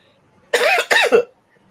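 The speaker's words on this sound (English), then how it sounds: "while I'm trying to clear my throat" A person clears their throat in two quick, harsh bursts close to the microphone, then silence.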